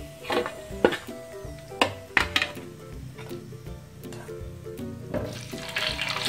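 Jackfruit pieces fry in oil for dendeng, giving a soft bubbling sizzle broken by several sharp clinks and scrapes of a utensil against the pan, with the frying swelling louder toward the end.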